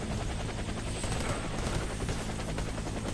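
Helicopter in the shooter game Warface, a dense, loud and continuous rotor and engine wash with rapid chopping texture running throughout, no speech over it.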